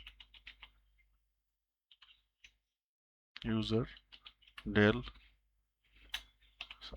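Keystrokes on a computer keyboard as a user-deletion command is entered on Red Hat Enterprise Linux 9, short clusters of light clicks before and after a stretch where someone speaks.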